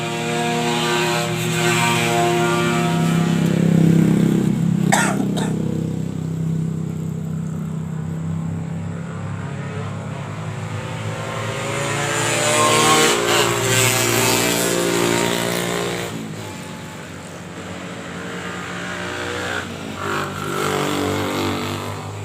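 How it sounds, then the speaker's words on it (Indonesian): A motorcycle passes by outside during a quiet indoor recitation, its engine swelling loud and close, fading, then rising again with a second rev before trailing off. "Sebentar ya, ada motor lagi."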